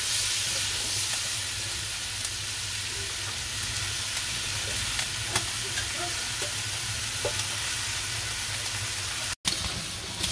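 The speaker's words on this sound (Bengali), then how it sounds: "টমেটোর তরকারি আমার কষানো হয়ে গেছে" Tomato curry being sautéed in a pan in a village kitchen makes a continuous sizzle and hiss over a low steady hum, with occasional soft clicks and a brief dropout near the end.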